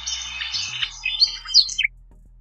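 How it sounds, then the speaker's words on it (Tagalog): A small bird chirps a quick run of bright, high tweets for a couple of seconds, close and clear with no other sounds. "ibon"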